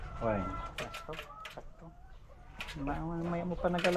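A rooster crows at a flooded house, its harmonic call rising and falling twice over about four seconds, close and fairly loud, mixed with people talking nearby.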